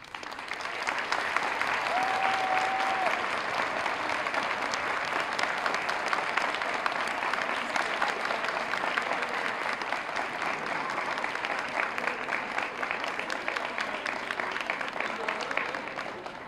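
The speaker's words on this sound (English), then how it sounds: "So we applaud you tonight." Sustained applause from an audience at an IB pinning ceremony, a dense even wash of clapping that holds for the whole stretch.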